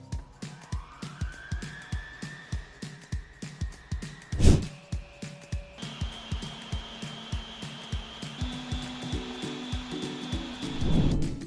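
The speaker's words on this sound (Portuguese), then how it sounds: "Agora eu vou ligar minha batedeira no mais baixinho até ela chegar no ponto." A stand mixer runs on its lowest speed whipping chantilly cream, a steady motor whine with a rhythmic beating pulse throughout, close by, with one sharp knock midway.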